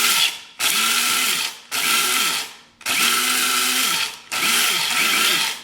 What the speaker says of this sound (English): then you just put them in a coffee grinder